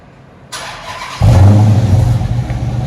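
A 2012 Dodge Charger R/T with a 5.7L HEMI and Flowmaster FlowFX dual exhaust cranks, then catches and fires into a loud, deep, rumbling idle right up close.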